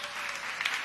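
Brief burst of audience clapping at a stand-up comedy and testimony show, soft and somewhat distant, a dense, steady patter of many hands.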